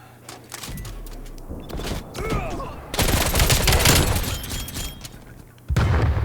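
QBZ-83 assault rifle firing in the shooter game Black Ops Cold War, with rapid bursts and sustained automatic fire, sharp loud cracks, and a heavy continuous stretch in the middle before a final burst.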